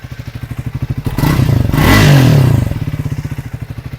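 Triumph Speed 450 motorcycle idling with a deep, regular thump, broken midway by a brief rising rev that swells loud and then settles back to the steady idle.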